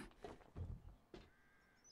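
A crow-like bird caws in the survival video game 7 Days to Die, two or three hoarse calls in quick succession, faint and somewhat distant.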